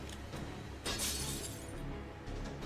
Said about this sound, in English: That was his spirit origin. Shattering all over the floor.